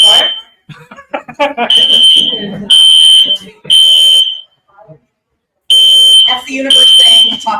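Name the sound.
fire alarm going off at an expo hall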